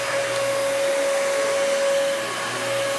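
A Dyson DC33 upright vacuum cleaner runs on carpet, a loud, constant motor roar with a steady high whine held alone for the whole stretch.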